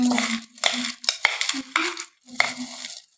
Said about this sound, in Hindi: अब इन सबको चम्मच की मदद से मिक्स कर लें।